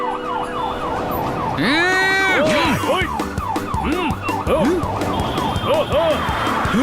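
Cartoon ambulance siren wailing loudly in a traffic jam, rising and falling in repeated sweeps alongside horn-like honks, with brief voices calling out over it.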